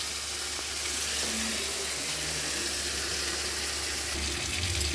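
Water is poured into a pan of cooking potato and tomato curry, making a steady close rush and hiss that runs unbroken throughout, with no talking.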